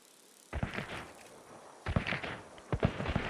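Explosions in a shooter video game land as several dull booming thuds and crackling bursts, moderately loud and arriving in separate clusters.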